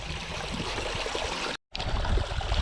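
Water rushes steadily through a gold prospecting sluice at a swimming hole, a close, continuous splashing flow with a brief gap partway through.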